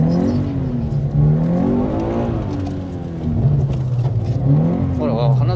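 Car engine revving hard with the throttle pressed during a drift, its pitch rising and falling in repeated surges, loud and close, while people talk over the engine.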